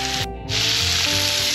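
Brussels sprouts, onions and garlic sizzling on a hot flattop griddle: a loud, steady hiss close up, broken by a brief gap before the sizzle swells again and carries on unbroken.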